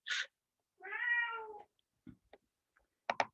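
A grumpy house cat meows once in a long, drawn-out, wavering call, close and fairly loud, framed by a few soft clicks and rustles in an otherwise quiet room.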